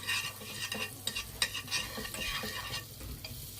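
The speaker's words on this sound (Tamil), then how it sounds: "ஸ்டவ் ஆன் பண்ணி பேனை ஹீட் பண்ணிக்கலாம். பட்டர் சேர்த்துக்கலாம்." Butter sizzling and being spread in a heated pan on the stove for bread pizza, a steady crackling fry with intermittent scraping and stirring clatter, close and fairly quiet.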